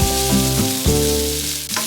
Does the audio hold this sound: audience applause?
no